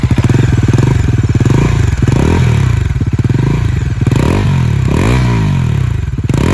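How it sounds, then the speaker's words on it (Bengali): A 2024 Bajaj Pulsar NS400Z 400cc motorcycle exhaust barks loud and close, its engine rising and falling through repeated throttle blips and revs over a steady rumbling base, with no talking. "তোমাদের এরকম জাস্ট একজস্টে আওয়াজটা শোনাচ্ছি"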